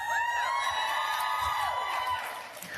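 Conference audience cheering and whooping in a large hall, a sustained crowd roar with rising and falling shouts that fades slightly at the end.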